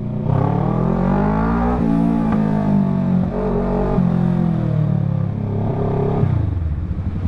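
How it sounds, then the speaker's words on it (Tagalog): Loud, close road traffic with a motor vehicle engine revving and shifting pitch, rising and falling over several seconds before easing off near the end, with no talk. "Teka, traffic dito sa amin."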